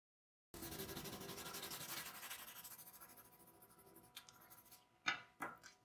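A felt pen drawing a tail shape on paper, a continuous scratchy rubbing stroke that starts abruptly and gradually fades, followed by a few short, sharp scribbles near the end; close and fairly quiet.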